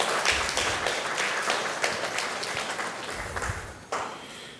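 Audience applause at a distinguished lecture in Anguilla, a sustained round of clapping from a hall full of people that gradually thins out, with a brief fresh burst near the end.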